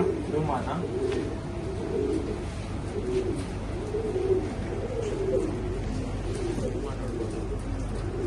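Pigeons coo in a loft in Shivaji Nagar, Bangalore, with soft repeated rolling coos close by over a constant low background hum.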